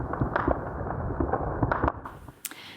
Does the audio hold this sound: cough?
no